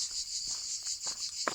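Crickets chirp in a steady, continuous high trill along a rural walking route between Cahors and Lascabanes in southwest France, with faint footsteps and small rustles underneath.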